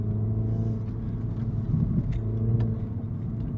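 A Mini John Cooper Works F56 hatchback pulls hard in third gear, its engine giving a steady, loud, low rumble that stays constant with no break, heard from inside the car.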